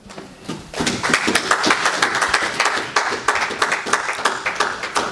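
A church congregation claps together in acclaim of the Lord, a dense, sustained burst of applause rising after a brief start and continuing steadily throughout.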